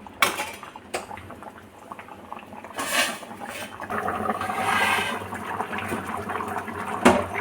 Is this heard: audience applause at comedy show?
no